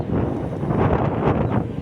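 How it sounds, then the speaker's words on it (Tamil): Strong wind buffets the microphone at Tholkappia Poonga park in Chennai, a loud continuous rushing roar with gusty swells throughout and no speech. "காற்று ரொம்ப பயங்கரமாக அடிக்குது."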